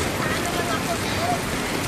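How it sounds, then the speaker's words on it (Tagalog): Heavy rain pours down in a dense, constant roar of drops hitting surfaces. "Ang lakas ng ulan dito."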